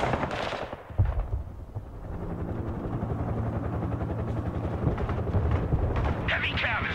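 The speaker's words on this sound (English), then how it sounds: "All the shots keep hitting the building" Sustained, dense gunfire and rumbling explosions from the Broken Arrow military video game, with rapid machine-gun bursts and heavy booms layered into a continuous loud battle din.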